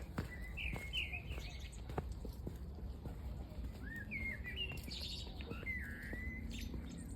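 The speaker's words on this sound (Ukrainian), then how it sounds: "шарм вечірніх прогулянок, що ти йдеш, а тут пташки співають." Faint birdsong outdoors, scattered chirps and short warbling phrases over a steady low background rumble, with occasional soft thumps nearby.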